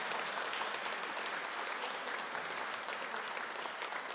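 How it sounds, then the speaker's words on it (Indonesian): Sustained, dense applause fills a church after the bride and groom's wedding vows, many hands clapping steadily and evenly throughout without any clear voices. "Mari kita beri tepuk tangan yang meriah untuk kedua mempelai"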